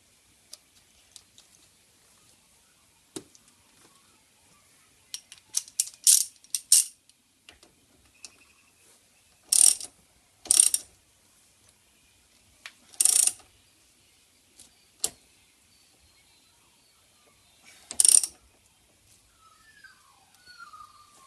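Ratchet clicks in short bursts while a nut is done up on a spline-fitted part during wood interior trim fitting on a 1999 Subaru Impreza, crisp and close with quiet gaps between bursts.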